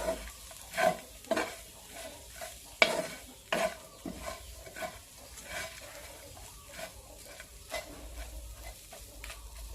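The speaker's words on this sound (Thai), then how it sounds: "แมงกระชอนคั่วทรงเครื่องค่ะ" Mole crickets are dry-roasted with seasonings in a pan while being stirred. A spatula scrapes and clatters in irregular strokes over a light sizzle, with several sharper knocks, close and without talk.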